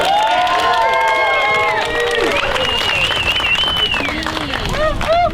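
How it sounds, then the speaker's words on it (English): A crowd at a dance performance event claps and cheers loudly throughout, with whoops and shouting voices rising over the continuous applause. "let's have a big round of applause for all the dancers"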